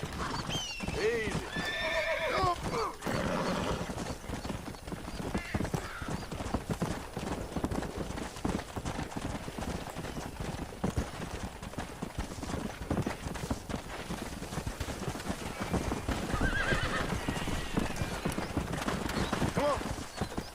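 Horse hooves clip-clop steadily with a couple of whinnies and snorts, close by, over a continuous game-like ambient backdrop in the video game Red Dead Redemption.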